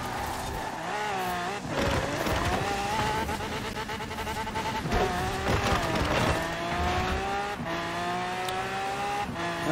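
In a racing video game, a McLaren Speedtail and a Porsche 918 roar along with high engine whines that keep rising and dropping through gear shifts, and tire noise comes and goes under the constant racing din.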